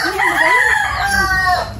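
A hen calls loudly and close by, a drawn-out clucking cry with wavering pitch, lasting nearly two seconds.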